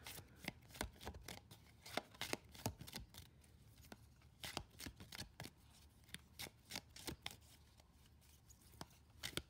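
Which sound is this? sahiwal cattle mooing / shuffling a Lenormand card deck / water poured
shuffling a Lenormand card deck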